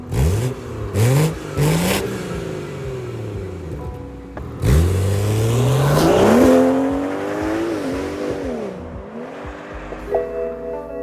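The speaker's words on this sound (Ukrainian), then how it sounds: "Сідаємо за руль, зразу пех-пех-пех і валимо" A BMW 440i engine revs hard and accelerates during a racing stage, with rising, sweeping engine tones through repeated gear changes, loud and close throughout.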